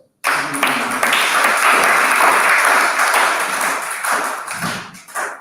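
At an awards dinner, an audience breaks into loud, dense clapping that starts abruptly after a brief pause and holds strong for several seconds before tapering off, with a few scattered voices.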